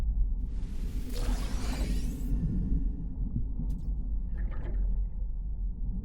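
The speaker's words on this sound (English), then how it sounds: "hop out and go and collect the sea glass" Collecting sea glass shards underwater in No Man's Sky gives a bright shattering swoosh, followed by a low watery rumble and a faint chime.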